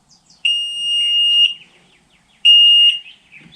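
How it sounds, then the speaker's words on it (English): Two long, high electronic warning beeps sound loudly from a 2024 Yamaha FX SVHO personal watercraft, warning of low fuel, separated by a second of quiet. "we're getting the beeping because it's low on fuel"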